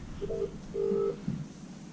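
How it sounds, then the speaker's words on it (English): A phone rings at a bar, two short tonal electronic rings in a row, moderately loud against a murmuring room background. "I can hear a phone ringing."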